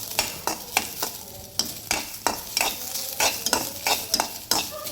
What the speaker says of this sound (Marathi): आपण याच्यामध्ये हे तीळ घालून घेऊया। हे थोडंसं भाजून घ्यायचं।